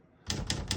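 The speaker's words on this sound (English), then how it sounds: "Compared to most typewriters, you can actually type" Three crisp, evenly spaced keystrokes clack on a 1953 Smith-Corona ultra-portable manual typewriter, quiet and close after a brief silent lead-in.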